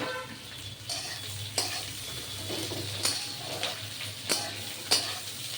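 Onion, pointed gourd and vegetable stalks fry with salt and turmeric in a pan, giving a steady low sizzle broken by several sharp clinks and scrapes of a spoon stirring against the metal.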